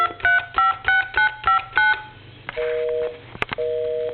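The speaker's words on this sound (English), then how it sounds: "put it into a telephone line, and I'm just going to dial my number" An AT&T QCP-31 speakerphone dials a number with a quick series of six clear touch-tone beeps, followed by a few short pulsing busy-signal tones.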